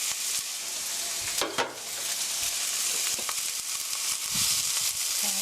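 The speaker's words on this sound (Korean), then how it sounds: "자, 이렇게 해서 스타일 프라이 3미닛 3분 정도 볶아주세요." Sliced onion, welsh onion, green bell pepper, pimento and carrot stir-fry together in hot oil for pear fried rice, making a loud, continuous close sizzle broken by a few faint stirring knocks.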